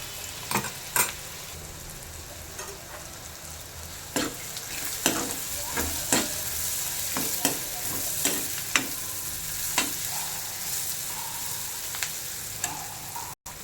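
Coarse spice paste added to onion and oil in a wok, frying with a steady sizzle broken by repeated sharp scrapes and knocks of a stirring spoon.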